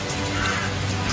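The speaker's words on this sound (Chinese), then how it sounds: "而且时不时能够听到乌鸦的叫声和牛的叫声" Crows cawing over Xinjiang grassland, a few rough calls heard at moderate distance against steady outdoor background noise, with no talking.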